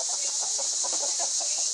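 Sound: chickens clucking during solar eclipse

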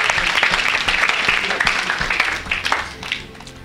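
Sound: congregation applauding in church

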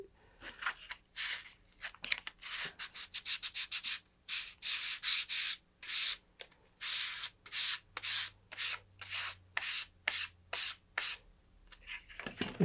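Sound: sanding paint off a wooden model rocket fin

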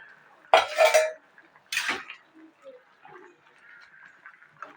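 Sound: opening the pot lid to check boiled jackfruit

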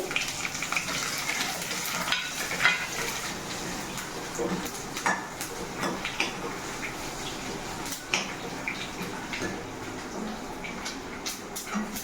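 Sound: mustard seeds crackling in hot oil

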